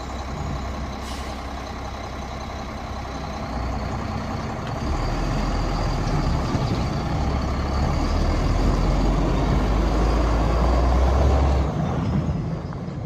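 A 1999 Mack RD688S truck's diesel engine turns over and settles into a steady, heavy idle, with a deep low rumble that grows somewhat louder partway through and holds close and alone.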